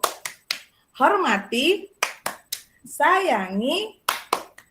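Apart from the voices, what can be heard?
"tepuk guru" rhythmic clapping ice-breaker game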